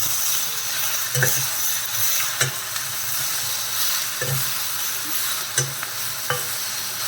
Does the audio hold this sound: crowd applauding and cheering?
no